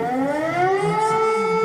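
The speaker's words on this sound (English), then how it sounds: "The Lithuanian EAS alarm sounds like a tornado siren" A Lithuanian EAS emergency alarm siren wails steadily with a slowly rising pitch, loud and sustained, much like a tornado siren.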